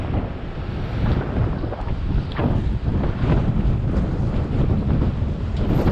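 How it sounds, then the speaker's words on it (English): Strong wind buffets the microphone while riding a bicycle through New York City, a loud, continuous low rumble that swells and gusts for the whole stretch, with no other sounds breaking through. "oh my God, it's windy."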